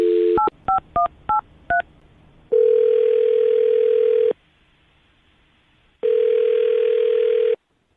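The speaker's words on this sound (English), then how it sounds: "I'm going to dial her phone number right now." A landline phone number being dialed: a quick run of five short touch-tone beeps, then a loud steady ringback tone that stops, a pause, and a second long tone, clear and close with no talk.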